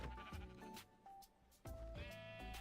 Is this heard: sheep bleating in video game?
yes